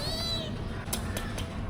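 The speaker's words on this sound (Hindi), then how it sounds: "एक छोटू सा दन्ना सा बिल्ली का बच्चा, क्यूट बच्चा जा रहा है मम्मी के पास।" A small kitten gives a short, thin meow outdoors while rain falls, followed by a few faint chirpy cries over steady background noise.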